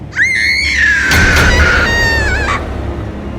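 A long, high, wavering scream rings out in a forest, loud and sustained for a couple of seconds before breaking off, over a low background hum.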